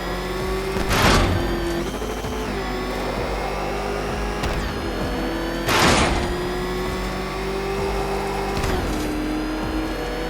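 Batmobile engine in Batman: Arkham Knight, a loud continuous motor drone with two sharp surging bursts, one early and one midway, over a steady whine.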